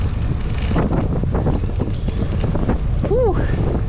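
Strong wind buffets the microphone while riding a Trek Domane AL 2 road bike on an exposed stretch, a loud, steady roar that runs throughout, with a brief tonal whistle near the end.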